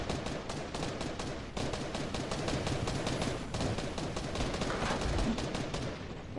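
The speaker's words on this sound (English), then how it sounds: "Why is everybody shooting at me?" Dense, rapid gunfire from players shooting in Fortnite, near and loud bursts of automatic fire rattling almost continuously, with a brief lull early on and no talking.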